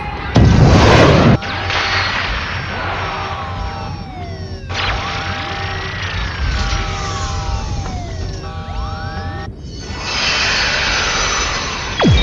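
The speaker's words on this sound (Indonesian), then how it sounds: "Sebuah pesawat hitam asing telah muncul menyerang raksasa pengacau itu." Television sound effect of a strange black aircraft flying in to attack a giant monster, with loud jet roar, whooshing swoops and sharp whip-like blasts layered across a dense, continuous action mix.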